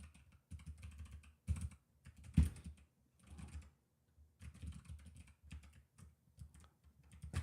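Bursts of typing on a computer keyboard, quiet and close, with irregular clusters of key clicks separated by short pauses and one heavier keystroke.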